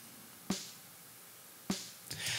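Two sharp snare drum hits from a bottom mic, squashed by a VC160 compressor, each with a quick bright crack and a short compressed tail, a third softer hit near the end over a low steady hiss.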